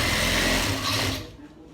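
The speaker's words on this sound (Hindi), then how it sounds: "ये कफ की डिज़ाइन पे मैं सिलाई कर रहा हूँ।" Sewing machine stitching a cuff design on a men's kameez shirt, a steady dense motor whir that runs for about a second and then winds down and stops.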